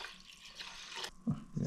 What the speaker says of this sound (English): for this quantity, I will put 660 grams of water